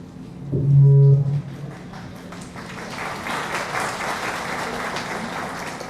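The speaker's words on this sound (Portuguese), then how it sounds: "para elas começarem a puxar as palmas" An audience at an education seminar on Africanities in Belo Horizonte breaks into applause after a short, loud low horn-like tone, the clapping rising into a steady, moderately loud patter that continues to the end.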